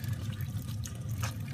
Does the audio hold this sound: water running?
yes